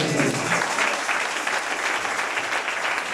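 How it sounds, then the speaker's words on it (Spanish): Congregation applause during a Spanish-language church sermon, a bright, dense burst of clapping that stays steady and close for a few seconds with no speech over it. "¿Cuánto dan un aplauso al Señor?"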